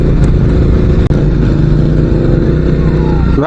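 A motorcycle engine drones loudly and steadily close by while riding along a road on a multi-day bike trip, with a brief dip near the middle and wind rush throughout.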